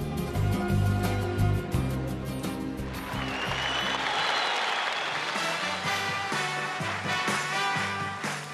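A Soviet concert audience in a packed hall applauds an orchestra show, with clapping swelling from the middle onward while the band's music plays beneath it.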